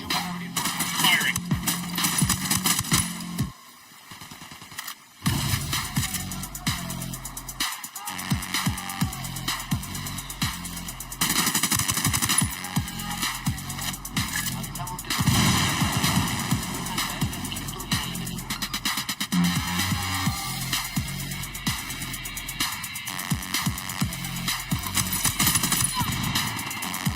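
Gunfire in the video game Ghost Recon Wildlands, with rapid bursts of automatic fire over a steady game soundscape, loud at times and fading at others, with voices heard in places.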